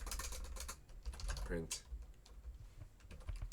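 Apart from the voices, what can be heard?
typing on a computer keyboard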